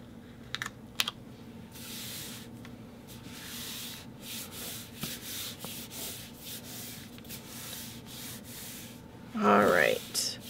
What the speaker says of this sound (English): So use the same 12 by 12 sheet and just cut it into an 11 and 3/4 inch square.